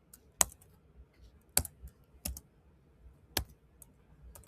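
Sparse keystrokes on a computer keyboard, a handful of sharp clicks at uneven intervals, close and fairly quiet, with no talking.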